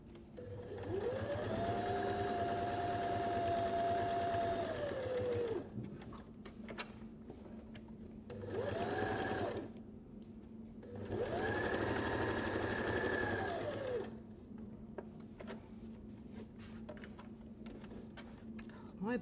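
A sewing machine stitches fabric for a face mask in three runs: a long one, a short burst and a medium one, with quiet pauses between. Each run is a steady, fairly loud whirring with a faint hum underneath.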